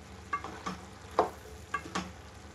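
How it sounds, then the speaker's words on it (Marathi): Grated coconut is stirred and sautéed in a pan of jackfruit bhaji, giving a quiet sizzle broken by a few distinct scraping stirs of a spoon against the pan, close and fairly soft, with no talking. "छान असं परतून घ्यायचं आहे आपल्याला"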